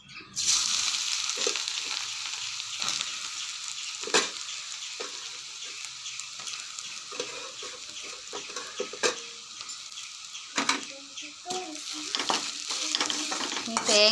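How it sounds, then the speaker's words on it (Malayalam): Grated coconut roasts with fried ginger in a pan, a soft continuous sizzle broken by repeated scraping and stirring strokes of a spoon against the pan, close and moderately quiet with no talking. "ഈ തേങ്ങയൊന്ന് മൂപ്പിച്ചെടുക്കണേ."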